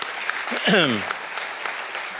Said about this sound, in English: they need a round of applause too for our dispatchers